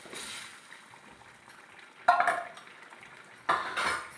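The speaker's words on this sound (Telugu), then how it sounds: "ఇప్పుడు నేను ఇది పప్పు వేసేస్తున్నాను అన్నమాట" Dal lentils go into a cooking pot and get stirred, with two sharp clattering bursts of metal utensil against the pot between quieter scraping and faint sizzling.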